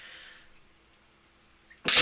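A single sharp, loud sneeze bursts out close by at the very end, after a soft breath and near silence.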